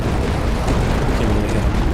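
Howitzer shells bursting in the tower defense game Tower Dominion, a dense rumbling barrage of overlapping booms that runs continuously and loudly across the whole moment.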